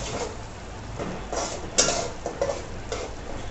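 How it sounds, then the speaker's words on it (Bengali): Spices are stirred and fried in a pan, with faint soft scraping and light clinks of a utensil against the pan in irregular strokes over a low sizzling hiss. "এখন নেড়ে চেড়ে মশলাটা ভালো করে কষিয়ে নিচ্ছে"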